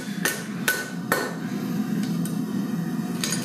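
A forged metal arm ring is dropped, giving a few sharp metallic clanks spaced apart, close and fairly loud, over a low steady hum of workshop background.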